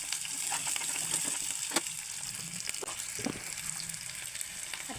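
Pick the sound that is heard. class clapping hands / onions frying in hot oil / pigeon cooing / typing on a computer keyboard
onions frying in hot oil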